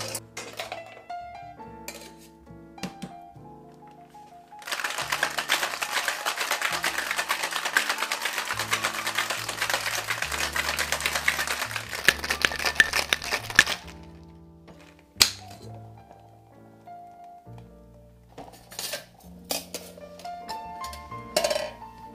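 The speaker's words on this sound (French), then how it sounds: "c'est le moment d'ajouter la glace" Ice drops into a cocktail shaker for a whiskey sour with a few clinks, then rattles hard and continuously as the shaker is shaken for several seconds, ending with scattered clinks.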